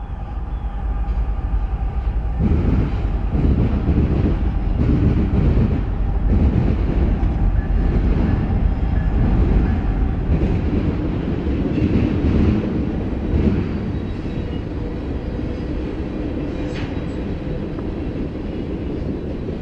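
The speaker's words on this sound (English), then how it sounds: "a northbound Canadian National train with UP power passed the diamond" A heavy northbound Canadian National freight train with Union Pacific locomotives rumbles past steadily at a railroad junction diamond, wheels clattering over rail joints, loud and close for the whole stretch.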